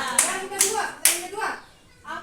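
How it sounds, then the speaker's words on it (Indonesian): Students in a classroom clap their hands in three sharp, quick bursts with a short gap between each, close and loud, mixed with children's voices. "Bagus, tepuk tangan."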